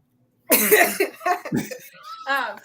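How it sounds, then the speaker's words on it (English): Someone breaks into a burst of harsh, repeated coughs close to the microphone, rough and throaty, ending with a strained breathy rasp. "Having a whole cough attack."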